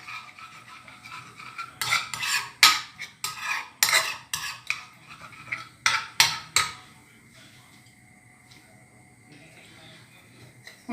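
Tomato sauce, thinned to a liquid, is stirred in a pot: a spoon repeatedly scrapes and clinks against the sides in a rapid burst of strokes, then trails off into quiet.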